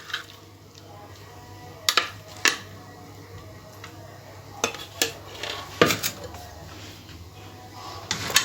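Seasoned potatoes and carrots being mixed in a pan, with sharp utensil clinks and scrapes against metal popping out irregularly over a steady low background hum, close and fairly loud.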